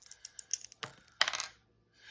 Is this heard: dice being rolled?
yes